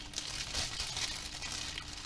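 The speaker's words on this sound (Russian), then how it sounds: "Сейчас мы открываем наш пакетик." A plastic bag holding lightly salted cucumbers is opened, giving a steady close crinkling and rustling of plastic that is quiet but continuous and has no speech over it.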